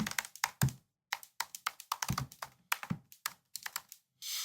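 Quick bursts of keystrokes on a computer keyboard as configuration commands are entered for an FPV drone in Betaflight, uneven clusters of crisp clicks with short pauses, close and alone.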